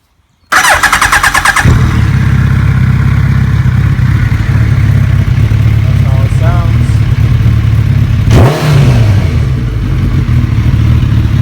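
A Suzuki Hayabusa motorcycle, restored after being stolen and wrecked, cranks over and fires up, then settles into a loud, steady idle with one sharp rev blip partway through.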